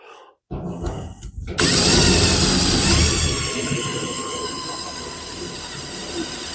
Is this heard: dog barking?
no